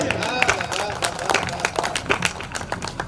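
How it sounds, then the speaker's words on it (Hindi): Audience clapping at a Hindi poetry gathering (kavi sammelan), scattered, uneven hand claps of moderate loudness with some crowd murmur beneath. "जोरदार तालियां बजाएं अपने लिए"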